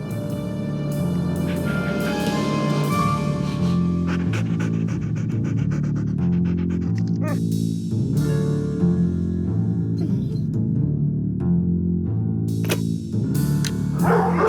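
Dogs in the Nancy Drew game Ghost Dogs of Moon Lake, trained to act vicious on command, pant and yip over a steady musical background. Short barks and whimpers break through now and then, and no one speaks.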